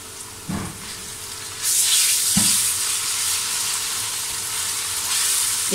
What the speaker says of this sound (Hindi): अब मैं इसके अंदर ये अदरक और लहसुन की पेस्ट डालूँगी।